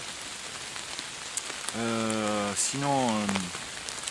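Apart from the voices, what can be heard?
rain falling at a campsite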